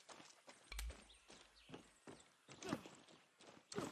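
Horses at a stable in the video game Far Cry 6 give off hoof clops and snorting, irregular footstep-like thumps at mid distance, with occasional sharper bursts and a low game ambience.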